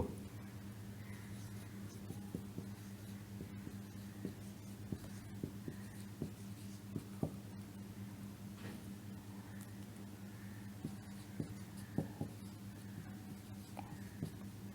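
Pen or chalk writing by hand on a surface during a lesson: faint, sparse scratchy strokes and taps recur irregularly over a steady low background hum, with no talking.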